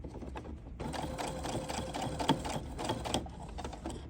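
A sewing machine stitches the fabric cover of a plush toy in a beginner class, running continuously with a fast, close, steady mechanical whir and rattle after a brief quieter start.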